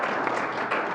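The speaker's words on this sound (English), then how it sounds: "join me in giving them a round of applause" Applause from a conference audience for the panelists after a regional talent-gap discussion, a dense steady wash of many hands clapping together for about a second, even and sustained with slight swells.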